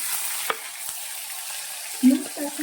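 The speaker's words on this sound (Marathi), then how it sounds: "मोहरी कडकड झाली की थोडेसे जिरे घालायचे आहे अगदी अर्धा कट केलेला कांदा घालायचा आहे आणि नंतर अर्धा टमाटा घालायचा आहे" Onion and tomato fry in a pan with mustard seeds and cumin, giving a soft, steady sizzle close by, with a few faint scrapes and clinks of stirring.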